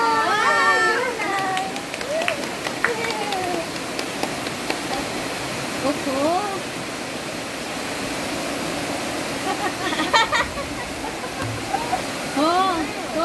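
Sudden heavy rain pours down outdoors as a steady, loud hiss beneath repeated calls and chatter from an adult and a child, one voice imitating the falling drops.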